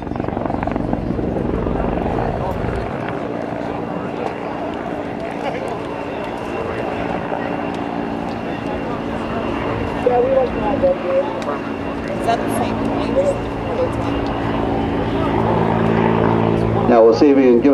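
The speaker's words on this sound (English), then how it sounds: "The CH-146 Griffon, Canada's utility transport tactical helicopter, putting on a demonstration of its maneuverability and power for you." A CH-146 Griffon utility tactical helicopter flies a demonstration at an air national guard open house and airshow, with loud, continuous rotor and turbine drone that swells as it maneuvers, and an announcer talking over it.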